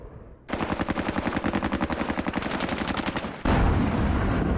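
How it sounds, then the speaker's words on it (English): Heavy gun firing in the WWII game Squad Battles at the Red October Factory: a rapid, steady burst of loud automatic shots for about three seconds, then a dense roar of continuous fire and rumble, with no talk. "A heavy gun. That's working."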